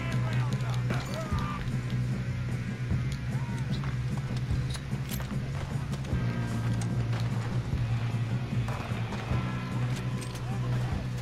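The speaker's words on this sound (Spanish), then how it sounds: "vienen unos buenos en caballo" Continuous clip-clop of horse hooves at a fast running pace in the video game Red Dead Redemption 2, with a steady low hum underneath and a person talking in Spanish over it.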